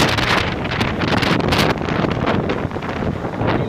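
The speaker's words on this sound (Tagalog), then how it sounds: "Malakas ang hangin talaga." Strong gusting typhoon wind in Boracay roars loudly against the microphone, a dense rushing noise with no voices.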